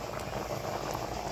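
A pot of water at a rolling boil for cooking hot dogs bubbles and churns in a dense, steady crackle, close and fairly loud with no voices over it.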